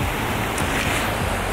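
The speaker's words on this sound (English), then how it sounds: "there's a beautiful waterfall just there" A waterfall and rushing stream in the Welsh countryside pour as a loud, dense, unbroken roar of white water close to the microphone, with no voices.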